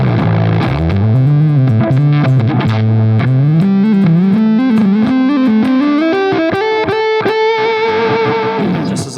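A fuzzy, distorted Schecter Hellcat bass guitar through a fuzz pedal plays a climbing riff of sustained notes, loud and saturated throughout with no talking.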